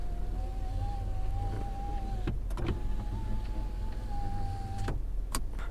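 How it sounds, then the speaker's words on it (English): Power sliding rear window of a 2022 Chevy Silverado 2500 HD LT Z71 Crew Cab running, a steady electric motor whine that holds for about two seconds, pauses briefly with a click, then runs again with a final clunk as it stops. "This truck has a sliding rear window,"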